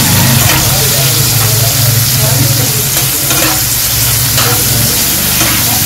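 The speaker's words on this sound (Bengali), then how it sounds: "চোকলাগুলোকেও আমি একটু তেলে একটু ভেজে নেব।" Raw green banana peels fry in hot oil in a pan after prawns have been fried, producing a loud, continuous, close sizzle with occasional stirring.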